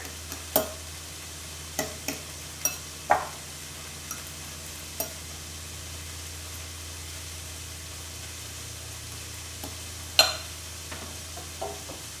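Ingredients being stirred in a pan over low steady sizzling, with a dozen scattered scrapes and knocks of a spoon against the pan, fairly close, with no voices.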